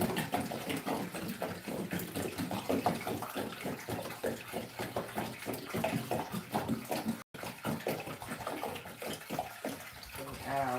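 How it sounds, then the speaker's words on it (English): Water pours into a Gardyn indoor planter in a steady splashing stream that runs almost throughout, briefly cutting out once, with no one talking. "We add our water."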